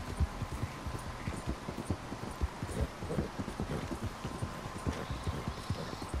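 Horse hooves clip-clop at a steady riding pace in Red Dead Redemption 2, a continuous rhythmic run of close, even hoofbeats heard alone.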